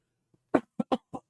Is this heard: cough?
yes